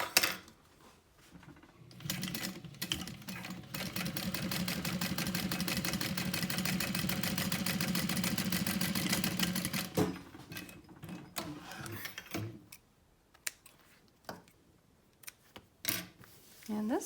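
Sewing machine stitching fabric for a small purse, a steady close whirring run of about eight seconds, followed by scattered clicks and handling noises of the fabric and machine.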